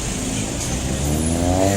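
A motorcycle fitted with a loud racing exhaust revs on a street in Ambon, a steady, harsh, close engine roar that climbs slightly in pitch, with voices faintly underneath.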